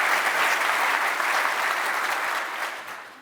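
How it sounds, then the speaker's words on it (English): An audience at a supercomputer event in Denmark breaks into steady applause, a dense even clapping that holds for a few seconds and then begins to taper off at the end. "I think that needs a round of applause."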